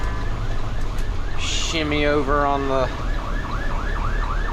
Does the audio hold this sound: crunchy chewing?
no